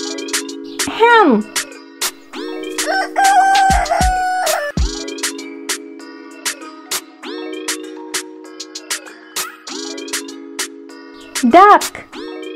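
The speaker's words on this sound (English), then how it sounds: "Hen." A rooster crows loudly at the start, then a hen clucks in short repeated bursts, ending with another crow, all close and clear.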